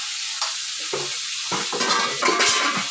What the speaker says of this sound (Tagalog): So, iprito na po na siya.